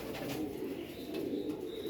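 Jacobin pigeons in a cage coo softly with low, throaty, rolling calls that continue through the brief moment.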